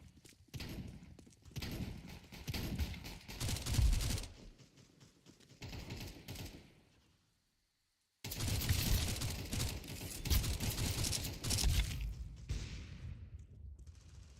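MAC-10 submachine gun fired in a video game, rapid rattling bursts in two long stretches separated by a brief silence, fairly quiet overall.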